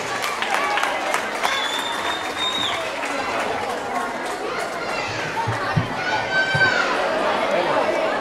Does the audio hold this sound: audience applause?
yes